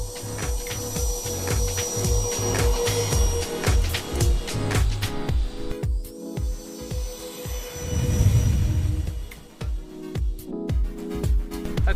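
A homemade giant radio-controlled ground-effect aircraft model runs its engine, a buzzing motor with rhythmic thumping pulses that surge and fade, mixed with knocks and handling noise nearby.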